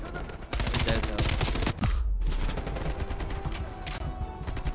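Gunfire in the Call of Duty Cold War video game campaign, dense rapid automatic bursts and explosive blasts running almost nonstop, loud and close, with a brief gap midway.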